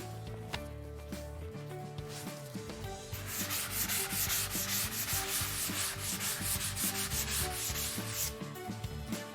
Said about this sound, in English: Now that the Gyproc Easifiller Finish is dry, I'm going to sand out any trowel lines to leave a smooth finish